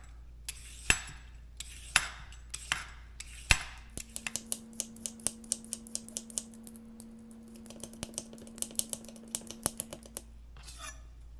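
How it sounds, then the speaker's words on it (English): Cucumbers being peeled by hand for a cucumber tomato salad: a run of quick, light scraping strokes in steady rhythm, close and fairly quiet, with a few sharper knocks at the start and a faint steady hum in the background. "Let's peel that cucumber."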